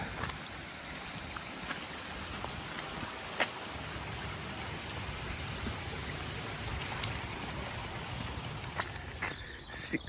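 Water flows under a little bridge along the Camino Portugués between Pontevedra and Caldas de Reis, a steady, faint rushing and trickling stream with a few soft taps.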